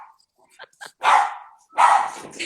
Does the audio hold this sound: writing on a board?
no